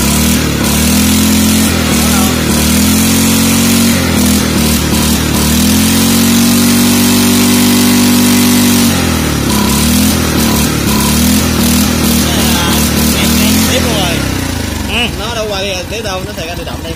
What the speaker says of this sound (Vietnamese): Máy thì quá ngon ha.